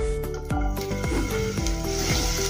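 Green chillies go into hot oil in a pan, a dense close sizzle running throughout with a few sharp crackles and spatters.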